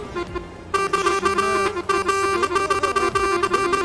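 A truck horn in the Euro Truck Simulator video game blares in long and short bursts after a brief quiet start, with synthetic engine tones sliding underneath.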